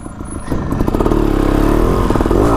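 A motorcycle on dirt comes in on the front brake and lifts into a nose wheelie. Its engine drones loud and close throughout, rising slightly in pitch, with some mechanical clatter.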